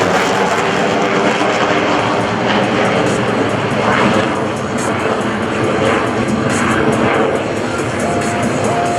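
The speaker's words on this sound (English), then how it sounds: "apply full afterburner and accelerate his aircraft into a near vertical climb" An F-16CJ Fighting Falcon on full afterburner climbs near vertically at an airshow, a loud, dense, continuous jet roar that fills the whole clip without letup, with no talk over it.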